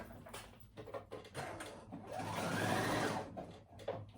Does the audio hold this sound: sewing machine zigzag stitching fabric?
yes